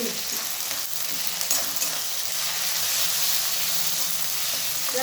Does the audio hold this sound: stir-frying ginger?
yes